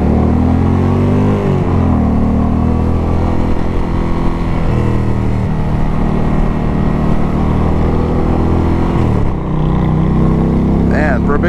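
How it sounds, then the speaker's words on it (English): A 2020 Indian Challenger motorcycle cruising on the highway, its engine droning loud and steady close by with shifting pitch and heavy wind rush throughout; the engine briefly dips near the end before picking back up. "so you guys get to hear how this bike sounds on the highway"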